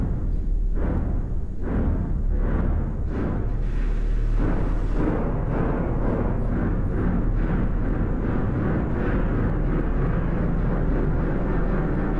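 A Christie cinema organ from the Gaumont Palace imitates a train, producing a steady, loud, rumbling chugging texture with rhythmic puffs early on, sustained without any talk.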